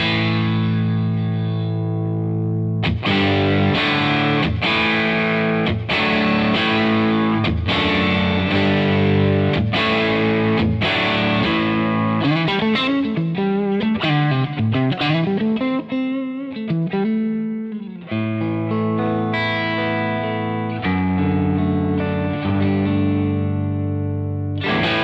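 Electric guitar runs through a CKK SHXC Klon-style overdrive pedal set as a low-gain drive, playing lightly distorted chords and single-note runs with a steady, full tone for about twenty-five seconds.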